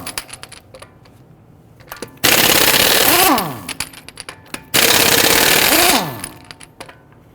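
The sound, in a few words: impact wrench loosening lug nuts on a Dodge Charger wheel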